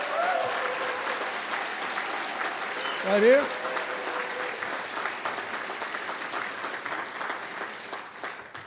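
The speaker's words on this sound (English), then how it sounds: "Give her a big round of applause" Broad applause from an audience at an evening lecture series event honoring a congresswoman, steady clapping throughout with a brief spoken voice and a short whistle-like tone partway through.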